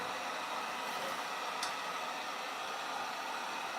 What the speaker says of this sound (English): My little vacuum.